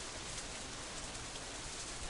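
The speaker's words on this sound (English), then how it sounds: "The rain keeps coming down harder and harder." Steady rain falls in the visual novel game Katawa Shoujo, a soft, even hiss of drops that is faint and continuous throughout with no voices.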